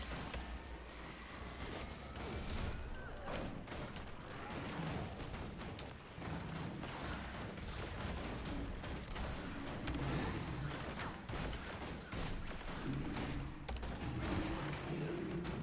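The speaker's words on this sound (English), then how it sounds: "Time to do some firing main cannon." Heavy cannon fire and battle noise from the Guild Wars 2 video game rumble continuously, with dense overlapping blasts and gunfire crackle, fairly quiet throughout.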